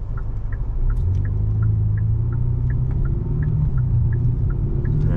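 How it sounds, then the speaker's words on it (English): A 2022 Hyundai Sonata N Line Night Edition cruises with a low, steady exhaust buzz and rumble heard from inside the car, while faint regular ticking repeats above the drone. "the exhaust is pretty cool on this too. Like you can hear a little buzz back there."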